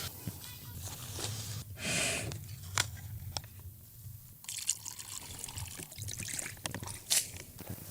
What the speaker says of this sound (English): filling these up with water so I can place them in the sun